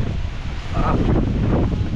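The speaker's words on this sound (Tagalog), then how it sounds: "Malakas po ng hangin." Strong wind gusts roar and buffet against the microphone without a break, a loud rumbling rush that swells toward the middle.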